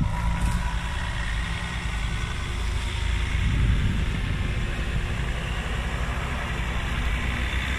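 A 4x4 off-road vehicle idling on a rugged trail in Coruña, Galicia, giving a steady, loud, low engine drone that holds even and close throughout.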